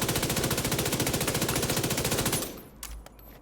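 Submachine gun in The Division 2 video game fires a full magazine in one sustained rapid burst for about two and a half seconds, loud and close, then cuts off into quiet game ambience with a few faint clicks.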